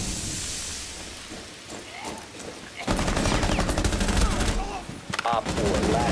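Rapid bursts of automatic gunfire in the tactical shooter Rainbow Six Siege, quieter shots at first, then a dense, loud stretch of sustained firing with short pauses near the end.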